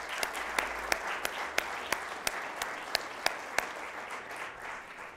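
Audience applause at the NASDAQ MarketSite in Times Square: a steady wash of many hands clapping, with a few sharper individual claps standing out in a regular rhythm, moderately loud and sustained without talk.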